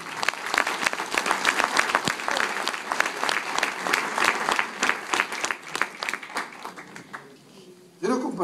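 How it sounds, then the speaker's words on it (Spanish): Dense audience applause in a hall, many hands clapping loudly and steadily for several seconds, thinning slightly toward the end before a brief burst. "Así es que dese un fuerte aplauso por estar aquí."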